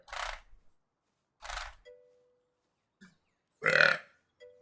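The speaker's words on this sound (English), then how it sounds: "ah, my burp was louder." Several separate burps come close and loud, a few short bursts with silent gaps between them, the last one the strongest, plus faint small clicks and a brief tone.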